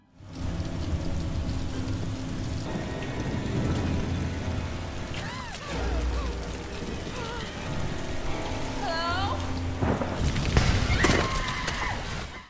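Steady rain pattering on a surface throughout, with a few short squeaky, whistling sounds and a louder burst near the end.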